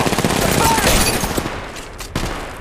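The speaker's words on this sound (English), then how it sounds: "I am taking fire!" Rapid bursts of automatic gunfire in Apex Legends Mobile, loud and close, with a fast rattling rhythm that thins out toward the end, followed by a single sharp shot.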